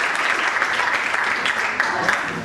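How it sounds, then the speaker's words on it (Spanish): Sustained, dense applause from a crowd at a Peronist party event in Bragado presenting political candidates, clapping steadily at fairly loud level throughout, with no talk over it. "Fuerte el aplauso para el compañero."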